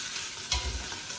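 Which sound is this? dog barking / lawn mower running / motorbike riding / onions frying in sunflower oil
onions frying in sunflower oil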